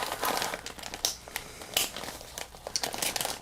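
A zipper top plastic bag is cut open with scissors at a craft table, giving close, irregular crinkling and rustling bursts with short snips and crackles.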